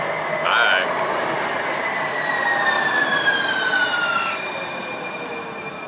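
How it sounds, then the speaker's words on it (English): A train passing nearby with a loud steady rumble and a tonal whine that slides gradually downward in pitch over several seconds. "this is my train, so bye"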